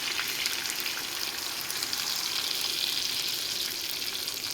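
Browned meat sizzles hard in a hot pan as sauce is poured in, a dense, continuous hiss and crackle at steady volume with no pauses.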